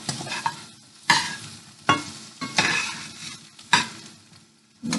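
Yellow squash and zucchini frying in a pan, a continuous close sizzle broken by several scraping stirs of a utensil against the pan every second or so.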